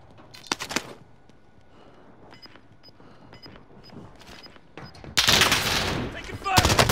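Video game gunfire in bursts: scattered loud shots early, then a dense sustained burst of automatic fire near the end, with game sound effects between.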